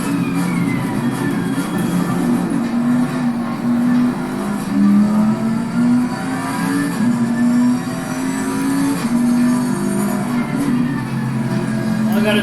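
A race car engine in Assetto Corsa Competizione at Zandvoort drones near and loud, its pitch rising and falling as the throttle is worked through corners.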